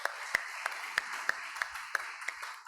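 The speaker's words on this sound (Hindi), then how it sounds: "ताली बजाएंगे यीशु मसीह के जोरदार।" A church congregation at a Sunday gospel service claps in a steady, even rhythm, sharp claps landing about three times a second over a sustained tonal background, moderately loud and close.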